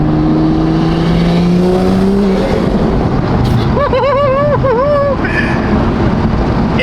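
A Toyota Supra with a turbo pulls hard in 4th gear, a loud, steady engine roar that climbs in pitch as it accelerates, with a brief whistling turbo spool rising and falling over the middle of the run.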